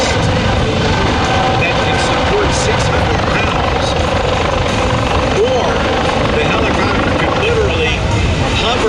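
A hovering rescue helicopter at an air show gives off a loud, steady rotor and engine roar that continues without a break, with a rumble across the whole range and no voices standing out.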